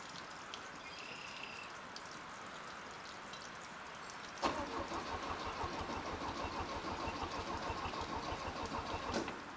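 A 1967 StarCraft Holiday boat's small 4-cylinder engine is quiet at first, then starts with a sudden burst and settles into a steady, gurgling idle through the exhaust, close by.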